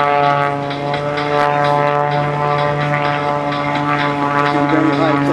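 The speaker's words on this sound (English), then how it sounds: "Some very high tech airplanes." Loud, steady drone of an Extra 300L aerobatic propeller airplane engine at an airshow, with a strong buzzing hum that holds throughout, close and continuous.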